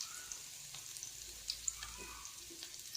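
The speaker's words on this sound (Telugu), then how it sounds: "టూ స్పూన్స్ ఆయిల్ వేసి హీట్ చేసుకొని అందులో సన్నగా చాప్ చేసుకున్న ఉల్లిపాయ ముక్కలు వేసుకోవాలి." Finely chopped onions fry in two spoons of hot oil as a tempering for lentil curry, a faint, even sizzle with soft scattered crackles throughout.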